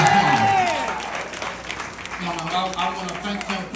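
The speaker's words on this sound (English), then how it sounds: "Let's clap our hands for the anniversary ladies." An audience claps at a gospel concert in Clayton, Alabama, a warm, dense patter of applause filling the hall while a voice speaks over it.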